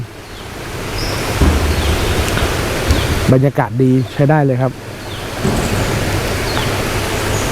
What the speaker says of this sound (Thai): มีน้ำไหล มีน้ำไหลสองฝั่งเลยนะครับ